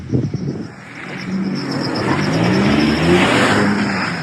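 A car accelerates toward a pedestrian on a street, its engine rising in a steady, building rev after a brief thump at the start, fairly close and loud, with no talking.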